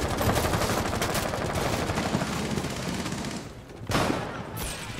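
Rapid bursts of automatic gunfire in Rainbow Six Siege, loud and dense for several seconds, then a brief pause before another burst.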